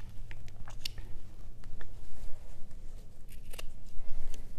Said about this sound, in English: I'm going to make little snips around the edge